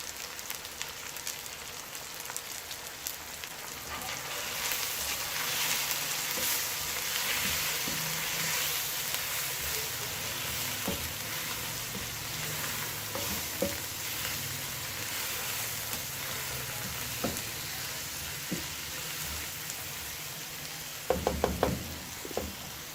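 Biryani masala spices fry in a pan for chicken biryani, a dense continuous sizzle close by with scattered taps and spoon knocks, ending in a short cluster of sharp knocks against the pan.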